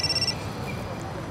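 A telephone rings briefly in an indoor scene from a Marathi TV drama, a short bright warbling ring at the very start that then stops, leaving low room noise.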